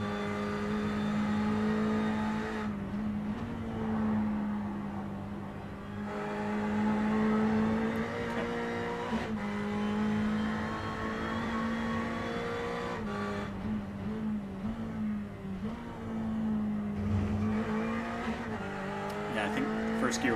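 Twin-turbo V8 Ferrari GT3 race car drones steadily at high revs for twenty seconds, with a strong buzzing engine note, brief pitch dips at gear changes and faint tire noise throughout.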